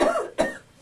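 Two quick, close coughs in succession, short and sharp, with nothing else around them.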